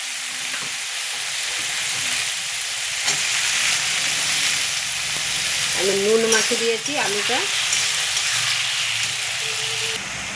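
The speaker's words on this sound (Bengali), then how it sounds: "আলুটা ভাজা হয়ে গেছে।" Potatoes sizzling in a hot pan, a steady crackling fry with occasional stirring scrapes, while someone talks over it at times.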